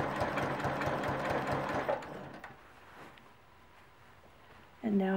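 Sewing machine stitching a whole cloth quilt, running loudly in a steady rapid rhythm for about two seconds, then slowing and fading to near quiet before a brief sharp mechanical sound at the end.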